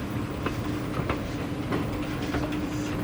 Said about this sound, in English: Looks like we're gonna be taking a shuttle train from here, just left.